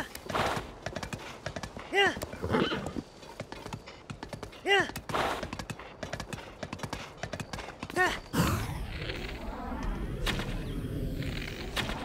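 Horse in Tears of the Kingdom making odd noises, with clip-clopping hooves and a couple of neigh-like calls, then a burst of louder clattering game effects near the end; a voice talks over it.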